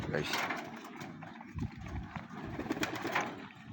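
Pigeons gather to eat scattered food, with soft cooing and fluttering close by under a voice making repeated calls and talking.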